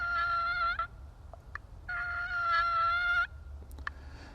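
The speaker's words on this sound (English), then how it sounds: "Another call that is sort of a contented call, a contented turkey call. It's called a purr, and all it is just slightly draw it back." A friction turkey call produces a soft, rolling purr in two sustained bursts over a low background rumble, followed by a few faint scratchy clicks.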